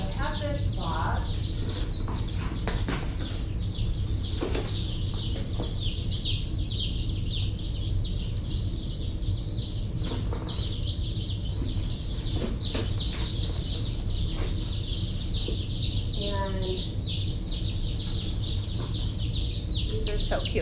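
Newly delivered baby chicks chirp from inside a box, their thin, high peeps coming in scattered bursts over a steady, noisy background.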